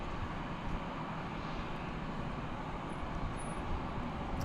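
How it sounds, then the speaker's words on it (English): An American Airbus A321 airliner arriving from Phoenix gives a steady, broad roar that holds even throughout, with no voices. "American Flight 2514 arriving from Phoenix, Arizona, an Airbus A321"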